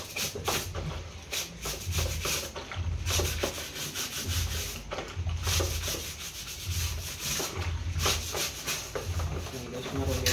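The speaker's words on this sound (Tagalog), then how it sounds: "sabunan natin, tapos brusin natin" Scrubbing an Azahi cooler fan with a soapy brush, a steady rhythmic rubbing that swells and fades in repeated strokes, close and fairly loud, continuing for the whole stretch.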